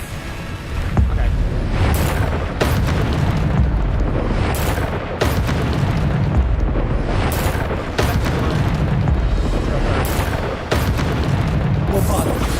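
Explosive Bombarda spell blasts in Hogwarts Legacy: a series of about five heavy booming bursts at roughly two-second intervals, loud and close, each leaving a rumbling tail over continuous game action.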